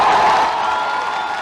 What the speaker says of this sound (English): The crowd may have cheered